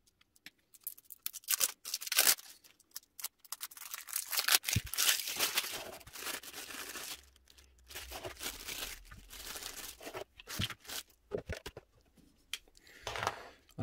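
Foil wrapping around a Remington ProPower HC7170 hair clipper is torn open and crinkled in short, irregular bursts of ripping and rustling close by.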